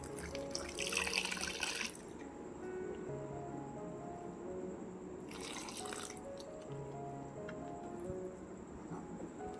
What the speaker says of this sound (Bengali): এবার একটু একটু করে জল দিয়ে ডোটা বানিয়ে নেব।